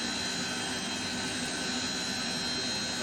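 A Lockheed JetStar jet engine spooling up during a cold-and-dark startup in Microsoft Flight Simulator 2024 gives a steady, broad whine and rushing roar that holds level throughout, with no talk.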